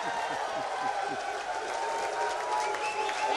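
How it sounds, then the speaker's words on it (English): Spectators at a 9-ball pool semifinal applaud and cheer, a sustained roar of clapping and crowd noise with commentators' voices running over it the whole time. "The crowd is going crazy here."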